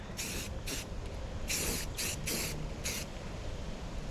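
Turbo Can spray paint hissing from the can in six short bursts of varying length, close and fairly loud, with quiet pauses between.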